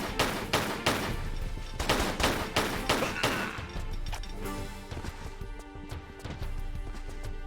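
Rapid gunfire from an enemy's big gun in Tomb Raider III, a burst of loud repeated shots in an irregular rhythm for about three seconds, then thinning into scattered quieter impacts.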